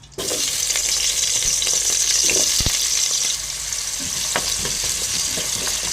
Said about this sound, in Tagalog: Iprito muna natin itong ano, patatas.